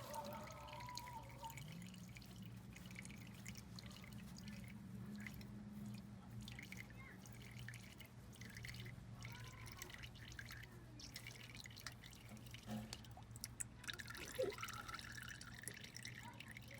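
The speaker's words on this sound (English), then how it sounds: "most of the oil has drained out from the first drain plug, so I'm going to go ahead and take out the second drain plug." Oil drips slowly from the drain plug of a 2019 Yamaha Wolverine X4 side-by-side during an oil change, a faint, quiet patter of drops over a low background.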